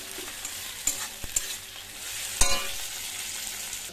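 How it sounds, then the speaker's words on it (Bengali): Prawns fry in a hot pan with a steady soft sizzle, and a utensil scrapes and knocks against the pan in a few sharp, separate strokes. "ততক্ষণ এটা ভাজা হোক।"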